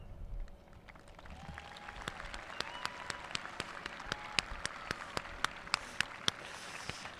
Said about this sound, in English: please rise and be recognized with a round of